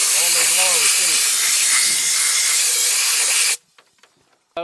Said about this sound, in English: Compressed air is nice, especially on these long receivers.